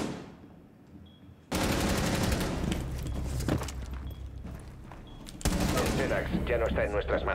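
Rapid automatic weapon fire in Rainbow Six Siege, a short quiet opening, then loud, close sustained bursts that briefly ease before another heavy burst.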